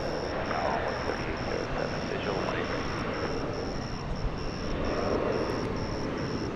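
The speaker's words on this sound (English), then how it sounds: "this is flight 505. It's going to Cancun, Mexico" Sun Country airliner departing DFW Airport for Cancun, a steady broad engine roar at moderate distance, with a repeating high electronic beep over it throughout.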